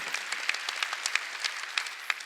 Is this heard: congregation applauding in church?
yes